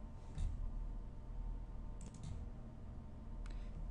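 Faint keystrokes on a computer keyboard, a few scattered clicks and taps typing in an answer against a quiet room hum.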